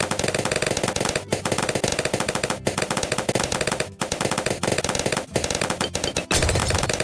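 Sniper gunfire in the video game Augmented Empire: loud, dense bursts of shots over a busy game soundtrack, broken by several brief pauses.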